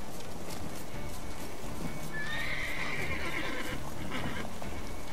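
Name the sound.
horse Roach whinnying in The Witcher 3 video game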